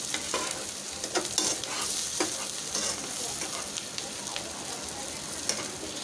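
Egg masala with spices fries in a pan, giving a steady close sizzle broken by the light scrape and clatter of stirring.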